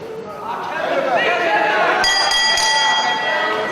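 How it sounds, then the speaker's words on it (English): A wrestling ring bell clangs at the opening of a match, its bright ringing tones emerging around the midpoint over a noisy, cheering crowd and continuing to sustain near the end. "The bell sounds"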